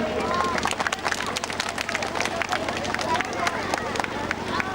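An audience claps at an annual school function, a scattered burst of hand-clapping mixed with crowd murmur and a voice talking over it.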